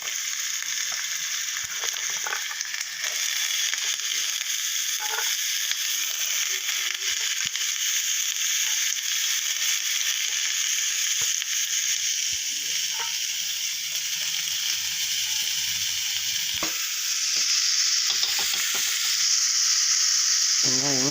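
Onions sautéing in a pan for Kalathappam give a steady, loud frying sizzle that runs throughout with no break, with a few scattered crackles and pops on top.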